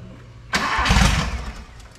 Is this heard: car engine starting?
yes